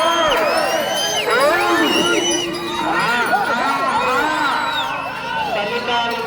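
A large outdoor crowd of farmers at a bull race roars and whoops continuously, a dense mix of shouting and cheering voices with high whistling cries rising above the hubbub.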